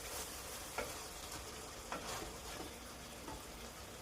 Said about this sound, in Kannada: 2 ಟೊಮೆಟೊ ಚೆನ್ನಾಗಿ ಮಿಕ್ಸ್ ಮಾಡಿ ಟೊಮೆಟೊ ಸಾಫ್ಟ್ ಆಗೋವರೆಗೂ